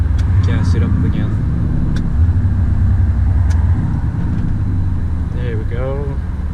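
A truck towing a trailer accelerates again after hard braking, its engine a steady mid-pitched drone heard from inside the cab, with a driver talking over it throughout.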